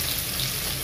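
Onion and green chilli fry in hot oil with salt, giving a brief, steady, close hiss of sizzling.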